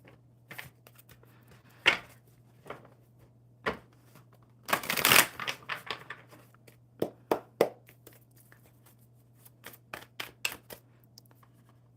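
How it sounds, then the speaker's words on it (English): Tarot and playing cards shuffled by hand at a table: scattered soft riffles and taps, with one longer riffle burst in the middle, close and fairly quiet over a low steady hum. "One more good shuffle."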